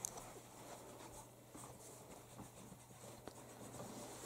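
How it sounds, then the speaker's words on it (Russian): Pencil scratching across paper at close range, a steady soft scraping with faint strokes and taps, no talk over it. "А почему карандашом я пишу?"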